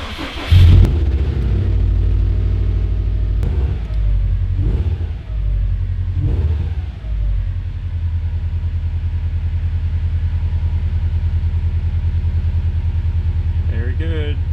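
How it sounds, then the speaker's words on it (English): A 2015-2017 Subaru WRX or STI starts with a loud cranking burst and settles into a steady low rumbling idle, close by, with a voice speaking over the engine. "Let's just turn the car on."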